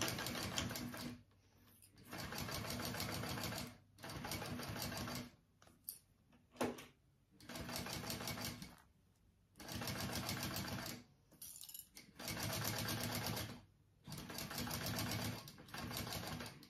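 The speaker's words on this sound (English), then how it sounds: "longer stitch length because we are top stitching" A sewing machine top stitches a small fold-and-zip backpack with a long stitch length, running in repeated loud, steady bursts with brief pauses and small clicks between runs.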